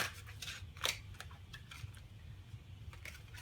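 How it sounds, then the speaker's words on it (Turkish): Tarot cards shuffled face down by hand, giving soft, close, irregular riffling and snapping sounds against a low steady hum, with no voices. "Kartları da ters karıştırıyorum yalnız."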